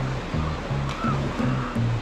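A river running swollen and strong after two weeks of nearly nonstop rain, heard as a loud, close, steady rush of water with a low rhythmic throb underneath.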